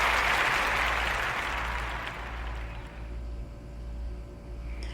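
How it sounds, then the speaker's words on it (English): Audience applause at a team game event, a dense wash of many hands clapping that starts strong and gradually fades over several seconds, with no talk over it. "The audience knew when to applaud when we identified the winning team of winners."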